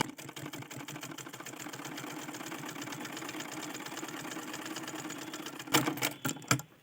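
A sewing machine stitches a folded edge on a double katori blouse with a fast, rhythmic, steady whirring hum, ending in a few sharp clunks as it stops, heard up close.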